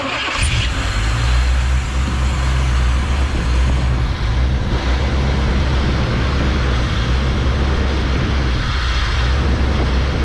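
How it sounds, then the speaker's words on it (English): An old K5 Blazer truck engine, revived after being abandoned, idles loudly and steadily close by, a low throbbing rumble that runs unbroken throughout. "That engine sounds good."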